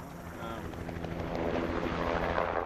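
Helicopters spreading poison bait near the Makarora River drone and thump steadily overhead, a broad continuous rotor rumble that swells slightly louder partway through.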